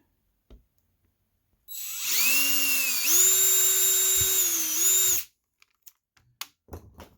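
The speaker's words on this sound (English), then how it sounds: "poke it with my awl to start my drill bit for this hole" A power drill bores a hole in a Vtech Alphabet Apple toy, with a high whine that runs for about three seconds and shifts pitch midway. Short clicks and handling noises follow in a quiet room.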